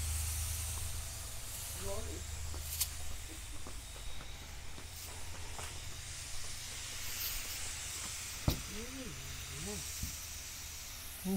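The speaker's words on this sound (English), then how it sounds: "The steam escaping." Steam hisses from an Afghan Kazan pressure cooker on a wood fire, a continuous soft jet under voices talking, with a few sharp clicks and pops breaking through.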